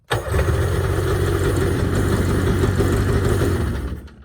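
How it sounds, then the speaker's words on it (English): A 1994 Sea-Doo SPX jet ski engine cranks over loudly as a continuous rough mechanical churn, starting abruptly and running steady for about four seconds before cutting off. "watch the gas gauge move when I crank the engine over"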